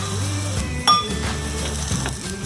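Brown rice masala paddu dumplings are turned in a paniyaram pan, with light metallic clinks and taps close by over a soft, steady sizzle, one sharper clink standing out.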